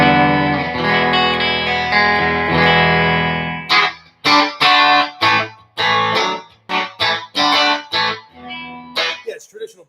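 Fender American Professional II electric guitar on its bridge pickup, played clean through a Supersonic 22 amp with light reverb: a long sustained chord rings out, then a run of loud, choppy strummed chords with short gaps between them.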